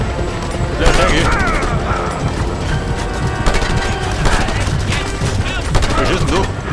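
Dense gunfire in the open-world game Just Cause 2 crackles in loud, steady volleys, with sharp shots and clanking impacts. Game voices and speech come through in places.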